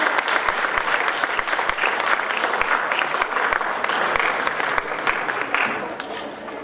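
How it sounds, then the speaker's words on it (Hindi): An audience at a Dr. Ambedkar Jayanti award ceremony applauds a student coming on stage, a loud, continuous patter of many hands with a few sharper claps standing out, tapering slightly at the end. "जोरदार तालियां मिस अनुष्का के लिए"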